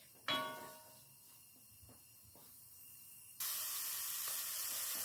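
Onions browning in a pan: a sharp clatter, then a steady hiss of sizzling that suddenly grows louder and keeps going.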